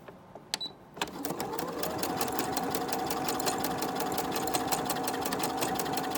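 Sewing machine running an overcast finishing stitch along a garment waistline, starting after a few handling clicks, then a continuous fast mechanical whir and rapid needle tapping at steady speed.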